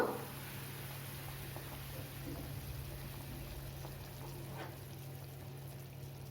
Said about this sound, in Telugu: మరగడం స్టార్ట్ అయిందండి, మీడియం ఫ్లేమ్ చేద్దాము స్టవ్